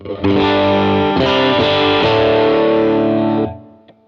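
A single distorted electric guitar chord on the neck pickup rings out loud and sustained with a few re-strums, then cuts off, followed by a faint click.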